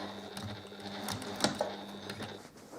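Sewing machine running while attaching quilt binding to the front of a quilt at about 2.5 stitch length, a steady close mechanical whir with a brief louder clack midway, no talking.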